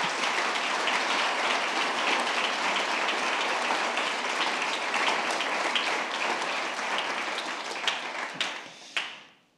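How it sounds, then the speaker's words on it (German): An audience at a conference on autonomy claps steadily in a dense, sustained round of applause that thins out and stops abruptly near the end. "Un applauso a voi tutti per la vostra presenza."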